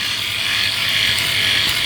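Philips Series 5000 electric shaver running against facial stubble, a steady close buzzing hum with a bright hissy cutting texture, continuous for two seconds with no talking.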